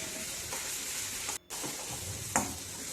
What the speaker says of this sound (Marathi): आता हिचा कच्चेपणा जाईपर्यंत ही तेलात चांगली परतून घ्यायची